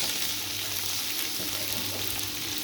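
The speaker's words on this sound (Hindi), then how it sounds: "जीरे को हमने फ्राई कर लिया" Cumin seeds fry in hot oil with a steady, dense sizzle and faint stirring, close and even from start to finish.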